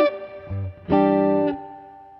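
Jazz guitar played through a UAFX Dream 65 amp pedal with dry reverb, a few clean sustained chords ringing out in sequence, the last one decaying gently, close and alone with no talking.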